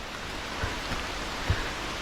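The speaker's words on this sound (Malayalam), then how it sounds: "എന്തായാലും മഴ നല്ല രീതിയിൽ ശക്തി പ്രാപിക്കുകയാണല്ലോ" Heavy rain pouring around abandoned houses in a rural Kerala village, a steady dense hiss with a few soft thuds of drops, moderately loud and without voices.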